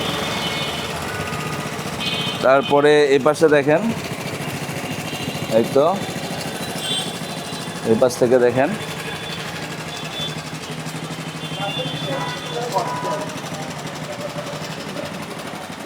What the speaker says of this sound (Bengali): এই তো এখন গাড়ি স্টার্টে স্টার্টে আছে